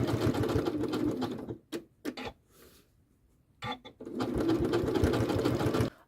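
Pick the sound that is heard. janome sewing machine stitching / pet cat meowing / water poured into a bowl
janome sewing machine stitching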